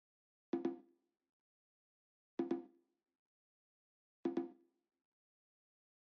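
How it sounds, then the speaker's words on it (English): A bongo percussion loop plays alone: three sparse double hits, each pair a quick flam, repeating roughly every two seconds against silence. "Here I grab a bongo and I just added"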